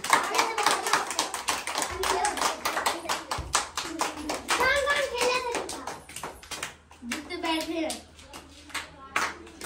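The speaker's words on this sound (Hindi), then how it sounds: "ताली बजाओ" A group of children sits in a circle clapping their hands in a quick, steady rhythm, close and fairly loud, while young voices talk and chant between the claps.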